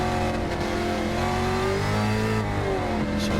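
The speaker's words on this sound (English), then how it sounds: "picking up 5th, running it right to the end of its rev range" Race car engine in Gran Turismo 7 held in fifth gear and revved right to the top of its range, a loud, continuous high-pitched whine climbing steadily with no talk over it.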